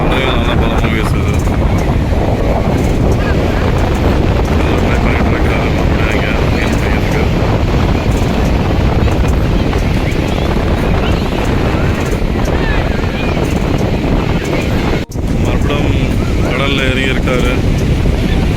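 Strong wind buffets the microphone at Velankanni beach, with loud, constant roaring noise and the rush of heavy sea waves beneath it. Voices come through intermittently under the wind, and a brief dropout occurs near the end.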